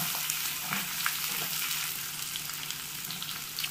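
Chopped onion and green chili frying in a pan, a continuous steady sizzle with faint stirring scrapes, fairly quiet and even throughout.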